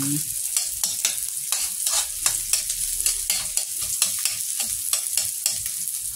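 Chopped garlic frying in a pan for a pork steak dish, a steady loud sizzle broken up by repeated scraping stirs of a utensil across the pan, with no talking.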